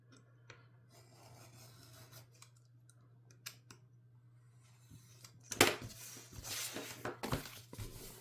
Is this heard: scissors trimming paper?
yes